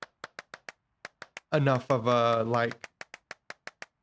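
Single pairs of hands clapping inside an abandoned church, sharp isolated claps in a steady rhythm with a short pause, broken midway by a man's drawn-out voice before the claps resume.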